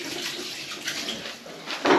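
Water runs steadily from a tap as hands are washed in a kitchen sink while cooking, a continuous soft splashing hiss that swells louder and closer at the very end.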